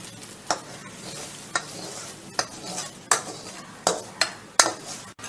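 Spice paste mixed into water spinach (kalmi greens) with green chillies in a pan, a soft steady sizzle punctuated by about a dozen sharp scrapes and clinks of a spatula stirring against the pan.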